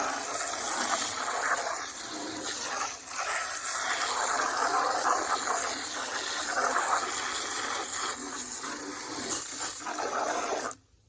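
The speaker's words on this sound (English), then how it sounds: "make sure you got water in the bucket first" Water runs into a bucket for mixing a concrete slab patch, a continuous hissing gush at moderate level that carries on for about eleven seconds before stopping abruptly.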